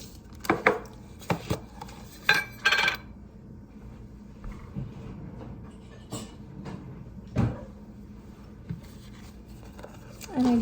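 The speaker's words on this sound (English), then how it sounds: "I like to give them a good shake to make sure that we're getting like all the ingredients all mixed up" A DAVIDsTEA tea container shaken to mix loose-leaf ingredients, irregular rattling bursts and knocks close up, with quieter handling noises between the shakes.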